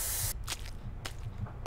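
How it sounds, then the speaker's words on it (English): Three short bursts from a spray paint can in the video game ERIE, a long hiss at the start followed by quick separate sprays, each sharp and close with quiet gaps between. "I don't know why I'm spray painting right in the air."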